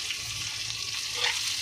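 Onion and green chillies frying in a pan for veg chowmein, a steady close sizzle with no talk.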